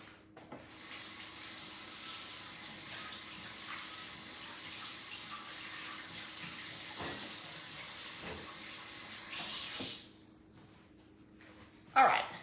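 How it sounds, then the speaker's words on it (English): A tap runs steadily for about ten seconds while hands are washed under it in a home kitchen, a broad even hiss of water with small splashes, then it shuts off, followed by a brief clunk. "I'm gonna go over here and wash my hands real quick."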